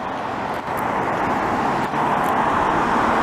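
Steady traffic noise from cars rolling along a Montreal street in the Côte-des-Neiges district, a continuous loud roadway wash with passing vehicles, no talking.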